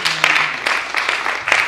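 Church congregation clapping hands during a sermon, a loud close wash of many claps with a few sharper accents, no talk over it.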